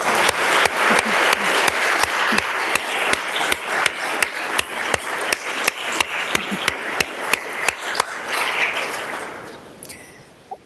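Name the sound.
applause in a House session chamber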